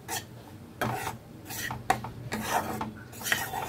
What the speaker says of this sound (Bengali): বেসনটাকে কিন্তু খুব সুন্দর করে ভাজতে হবে।